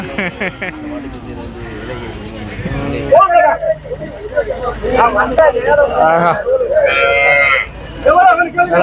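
Cattle moo loudly and repeatedly at the Devakottai cattle market, close calls rising and falling over crowd babble and people talking nearby.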